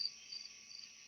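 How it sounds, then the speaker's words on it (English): Insects of late summer, crickets and cicadas, keep up a steady, high, continuous chirring trill close by. It runs evenly through the moment with no voices over it. "late summer day, the cicadas and crickets are going"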